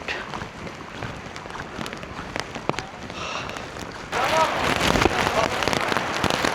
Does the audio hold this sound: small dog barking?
no